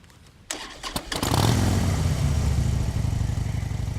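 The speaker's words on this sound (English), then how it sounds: "Then she started Hermes' engine." A motorcycle engine starts with a few sharp cranking bursts, then catches and settles into a loud, steady, rumbling idle up close, used as a sound effect in an audiobook.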